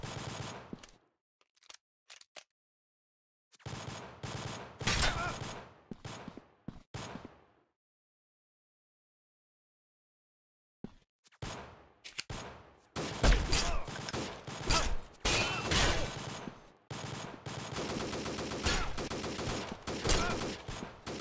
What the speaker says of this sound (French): Ah, il me tire à travers les murs là.